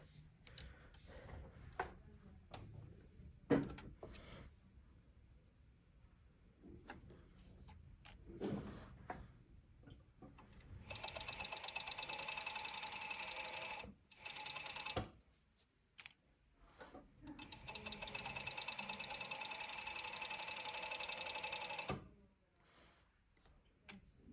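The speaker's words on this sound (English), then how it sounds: "we're just going to serge them together using a basic 4-thread serge" A serger overlock machine sews a 4-thread seam in two sustained bursts of fast, steady mechanical whirring, separated by quiet handling noises and brief pauses.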